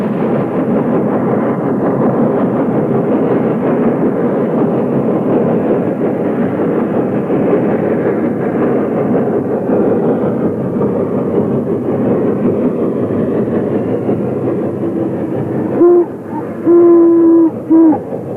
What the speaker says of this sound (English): The same day finds number 2148 powering train number 99 near Shawsville.